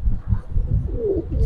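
Big-size Giribaz pigeons, a male and a female, coo in a loft with a low, close, throaty rumble that swells and falls over a short stretch, without speech.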